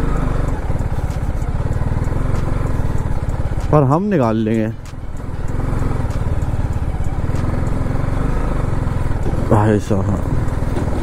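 A BMW G310 motorcycle rides off-road along a forest track in Rajasthan, its engine a steady low putter running throughout beneath someone talking, with a couple of short pitched revs rising over it.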